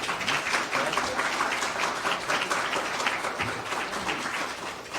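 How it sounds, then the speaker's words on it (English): An audience at a housing workshop applauds the morning's speakers, a steady wash of many hands clapping at moderate volume for about five seconds without talk. "I would like to give a round of applause to our speakers today."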